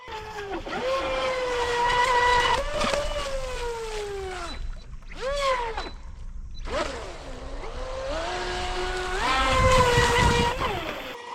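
A Traxxas RC stunt boat carrying a heavy battery pack races across water, its electric motor whining high and loud in rising and falling sweeps, cutting out briefly twice before revving hard again.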